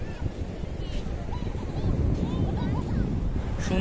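Sea waves and wind at Bakkhali beach, a loud continuous rush of surf with wind buffeting the microphone, and a person talking over it.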